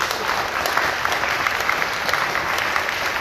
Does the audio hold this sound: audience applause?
yes